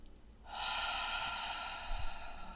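A long, deep, steady breath of airy hiss begins after a brief pause and holds for about two seconds in a quiet room, ending with a faint low exhale.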